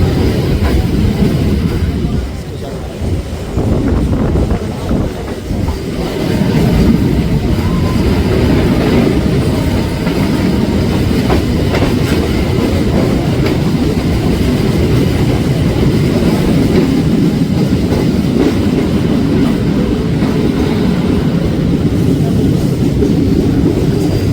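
A Howrah to Amta local train rumbles over the rails near Kona station, a loud, continuous roar with rattling carriages and a faint clatter throughout.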